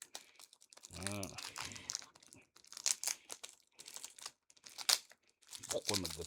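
Plastic wrapping on a Magic: The Gathering Marvel Super Heroes starter box crinkles and tears in close, irregular bursts as someone works it open, with someone speaking intermittently between the rustles.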